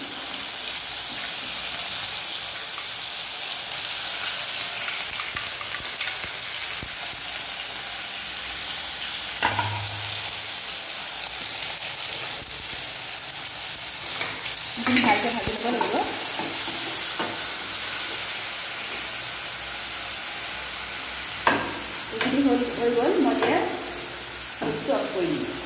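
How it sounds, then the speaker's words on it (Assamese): Onion paste frying in a pan for a soybean and egg curry gives a steady, close sizzle with stirring scrapes and a few louder clatters toward the end. "পিঁয়াজৰ পেষ্টখিনি ভালকৈ ভাজি লোৱাৰ পিছত"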